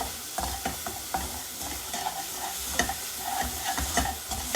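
Raw mango cooking with sugar as it starts to caramelize in a pan, a steady low sizzle with repeated scraping strokes of a spoon stirring throughout, close and fairly quiet, no talking.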